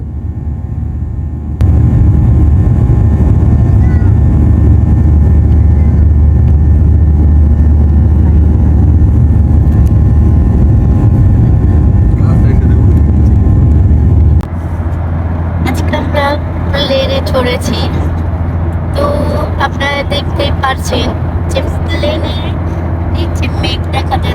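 Inside a passenger plane climbing after takeoff from Bangladesh toward India, a loud, steady low cabin drone fills the whole stretch, shifting character partway through as brighter sounds and voices join it.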